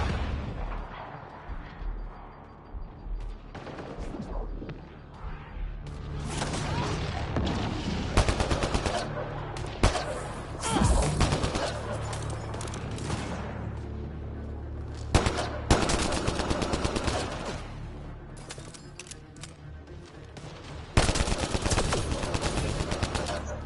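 Sustained automatic gunfire rattles through a Mass Effect: Andromeda firefight, dense bursts layered over rumbling background noise, with louder sharp spikes near the middle and end.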